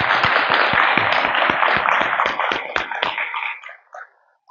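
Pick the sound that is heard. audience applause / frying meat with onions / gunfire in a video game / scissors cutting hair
audience applause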